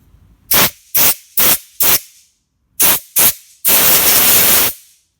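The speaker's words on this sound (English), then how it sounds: "you can use the sensor cleaner, or you could use compressed air" Sensor cleaner or compressed air sprayed on a car's MAF sensor, loud and close: four quick hissing bursts, a pause, two more short bursts, then one sustained spray of about a second.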